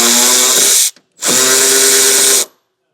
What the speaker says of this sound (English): then we can remove that 8mm bolt